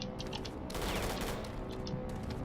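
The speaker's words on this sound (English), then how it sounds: "Oh, someone is shooting me." Gunfire in the video game Eisenfaust: Legacy: a brief, dense cluster of shots in steady background noise, moderately loud and without speech.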